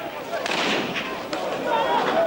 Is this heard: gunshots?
yes